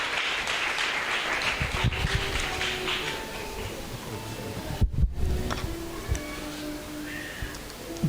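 A church congregation applauds, a dense, sustained clapping close by that swells and fades, with brief louder bursts near the end.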